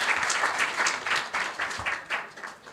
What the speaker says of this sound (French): Merci d'applaudir Léna.